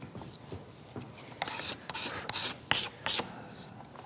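A blade scrapes along a dry wooden spoon handle in a run of short, raspy strokes, about six or seven close, crisp passes in steady rhythm after a few faint scratches, with no talking.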